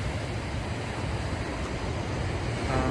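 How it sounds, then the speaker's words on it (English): Big ocean waves roll in on the California coast, a continuous loud wash of surf mixed with wind buffeting the microphone. "The water is cold, the waves are big."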